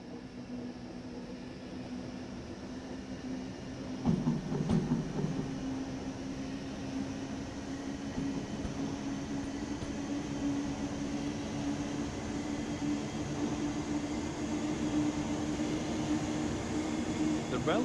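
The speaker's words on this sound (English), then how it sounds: "This train is hauled by an DBB 1020, first built in 1940." A DBB 1020 electric locomotive from 1940 hauling a train in the Train Sim World 5 simulation, a steady rumbling run with a continuous motor drone and one louder clank partway through.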